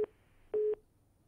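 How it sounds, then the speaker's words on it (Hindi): A telephone busy tone sounds after a disconnected call on a Haryana TV news broadcast: two short steady beeps, the first clipped and the second about a quarter second long, clear and isolated against near silence. "फोन डिस्कनेक्ट हो गया"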